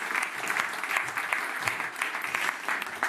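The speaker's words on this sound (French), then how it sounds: "On vous applaudit." An audience at a tech evening event gives steady, moderately distant applause, a continuous patter of many hands with slight swells and no voices over it.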